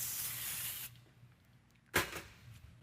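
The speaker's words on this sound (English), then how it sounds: "I'll just add a little more of my baking spray here" A close hissing burst of aerosol baking spray over cupcakes for just under a second, then quiet room sounds and a single brief knock.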